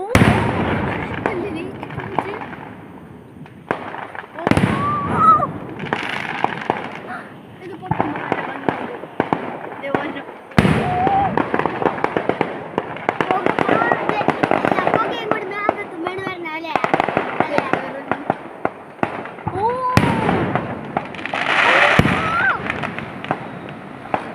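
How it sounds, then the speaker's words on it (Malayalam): Firecrackers bursting at a church fireworks festival in Kerala: repeated sharp bangs and crackling bursts at irregular intervals, close and loud, with people talking and shouting throughout. "ഇത് നല്ലൊരു പടക്കം പൊട്ടലാണ്"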